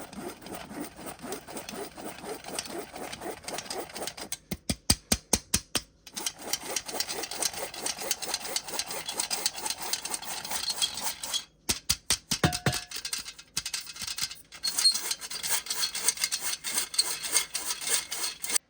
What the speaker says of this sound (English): We're going to sift all this together.